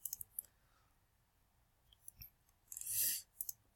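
A single crisp computer mouse click on a login button, quiet and close, preceded by a few faint clicks and followed by a brief rustle.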